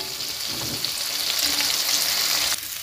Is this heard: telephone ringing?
no